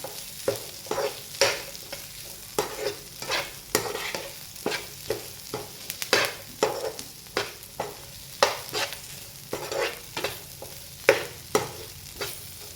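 Bitter gourd and garlic fry with curry leaves stirred in a pan, a steady run of scraping spatula strokes about once a second over a soft continuous sizzle, close and alone.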